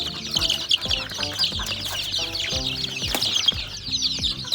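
A flock of Rhode Island and Buff Orpington crossbred chickens cluck and chirp continuously at close range.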